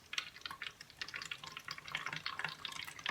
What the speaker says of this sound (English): I have a spray bottle, which I'm filling with a solution of